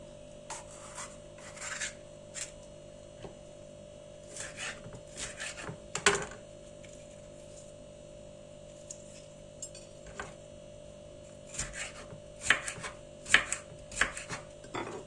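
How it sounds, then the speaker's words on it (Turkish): A knife chops green and red peppers on a board in scattered clusters of crisp taps and rasps, separated by quiet gaps, close and moderately loud. "Şimdi çok küçük olmayacak şekilde biberi doğruyorum."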